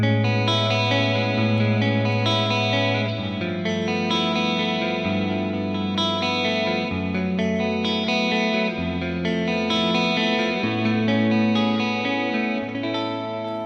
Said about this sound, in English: Using a clean American style amp with a whole reverb and a touch of tape delay, you can instantly create that lush wall of sound